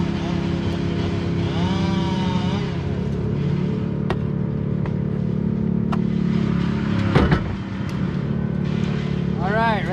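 A battery chainsaw, Stihl or Husqvarna, runs with a steady electric whine at close range, a few sharp ticks and a brief louder surge partway through, while a person talks over it.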